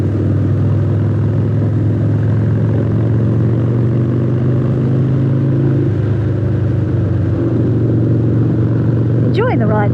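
A heavy motorcycle, far heavier than a Honda, drones steadily and loudly while riding, its engine hum constant under wind noise, with a brief rising whine near the end.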